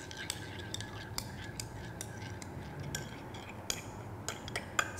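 A spoon stirs a mug of pumpkin spice moon milk with chamomile, giving soft, quiet clinks and scrapes against the cup at an irregular pace over a faint background hiss.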